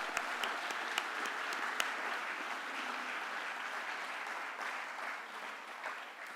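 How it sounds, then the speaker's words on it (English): Sustained applause from the ceremony crowd at the 2019 Georgia Tennis Hall of Fame celebrating five honorees, a broad even patter of many hands with a few sharper claps near the start, easing slightly toward the end. "let's give another round of applause for the 5 people we celebrated tonight"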